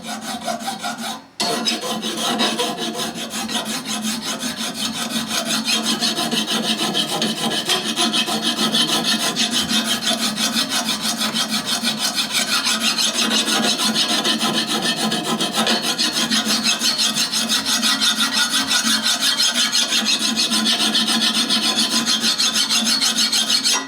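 Steady, continuous rasping of a file scraping hardened coil-spring steel, close and fairly loud, stroke after stroke with no talking.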